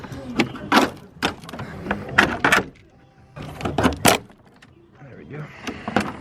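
A plastic cowl panel is pried and pulled loose from a MK6 Golf R with the wipers already removed, giving a series of sharp plastic clicks, snaps and rattles at close range, with short pauses between bursts.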